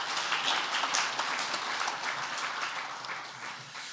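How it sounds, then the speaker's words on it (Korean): A church congregation at a men's mission prayer meeting applauds the pastor, a dense, even wash of clapping that holds steady and tapers slightly near the end, with no voices over it. "은혜로운 말씀을 전해주신 목사님께 감사의 박수를 드리겠습니다."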